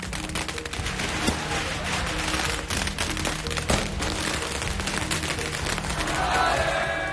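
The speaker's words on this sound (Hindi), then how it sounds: "मेनार गांव में तोपों से लगातार बारूद के धमाके किए गए।" Traditional cannons fire gunpowder blasts in a rapid, continuous barrage during a Holi celebration in Menar village, with sharp cracks and booms crowding together alongside fireworks, loud and dense with crowd noise beneath.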